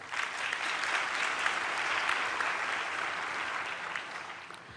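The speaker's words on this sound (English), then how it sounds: "Please give a round of applause to the faculty, to yourself." An audience at a university autumn graduation ceremony for a humanities faculty gives a sustained round of applause, a thick, even wash of clapping that fades slightly toward the end.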